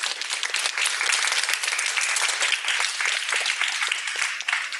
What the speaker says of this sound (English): Could we have a round of applause for both of you?